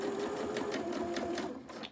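A sewing machine set to a long stitch length of about 4 or 5 runs a big tacking stitch through a fabric advent calendar, whirring steadily and close by before stopping just at the end.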